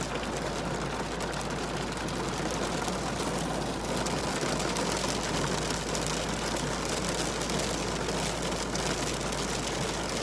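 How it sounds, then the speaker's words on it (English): Light rain falls steadily, a constant soft patter on surfaces outdoors, with a low hum underneath and no voices. "The rain has calmed down"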